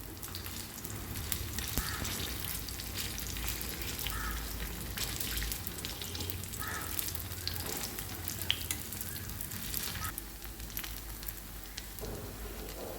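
Banana stem paniyaram frying in a generous pool of oil on a plain stone pan, giving off a steady, continuous sizzle with faint crackles and no voices.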